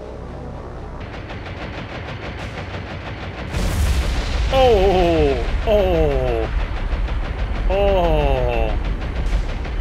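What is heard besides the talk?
bomb-triggered magazine explosion of a ship, video game War On The Sea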